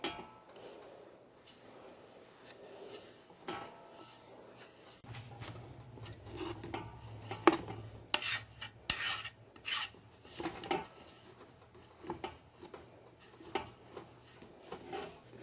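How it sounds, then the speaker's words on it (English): Fragrance and colorant being mixed in a small separate dish, quiet clinking and scraping of a utensil against the dish in irregular bursts, soft and close, growing busier toward the middle, with no talking. "So I'm going to try to mix the fragrance and this colorant in the, just this little separate dish."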